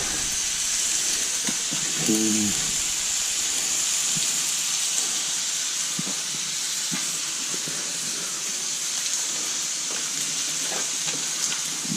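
Butter sizzles steadily in a pan while a Cuban sandwich cooks, a continuous hiss with a few faint clicks and small pops, fairly loud and close throughout.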